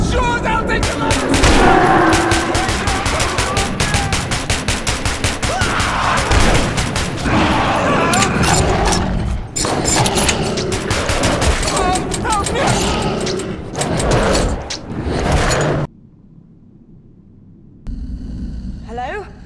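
Rapid bursts of video game gunfire, heavy automatic fusillades and booms, fill most of the stretch while characters shout over the shooting, before a quieter radio-like passage near the end.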